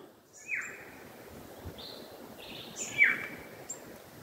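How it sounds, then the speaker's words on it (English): Several birds call in short, clear whistled notes in bush along a valley, some near and some farther off, over a soft steady rush of a nearby stream. "You can hear the birds"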